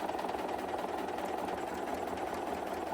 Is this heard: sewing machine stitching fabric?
yes